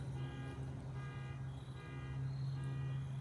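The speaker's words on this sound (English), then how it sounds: "You may hear a car beeping outside" A steady tonal beeping drones continuously from outside, fairly faint and distant, over low background hum.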